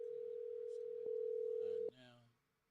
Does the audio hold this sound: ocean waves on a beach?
no